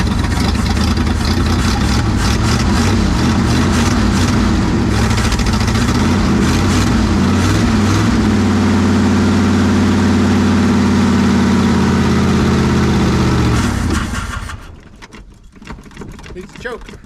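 An old car that sat in a barn lot for over 20 years runs loud and steady with a rough mid-pitched engine drone for about fourteen seconds, then cuts out and leaves quiet background noise.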